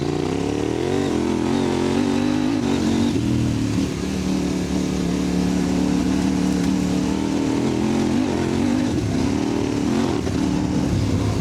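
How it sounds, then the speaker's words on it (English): A CFMOTO 800MTX motorcycle with a DOSFAB aftermarket exhaust runs loud and close, its exhaust note rising and falling as it revs repeatedly. "I'll never get sick of listening to that DOSFAB exhaust"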